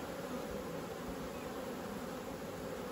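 Honey bees buzzing at an open beehive as frames are worked, a dense, steady swarm drone close by, continuous and unbroken throughout.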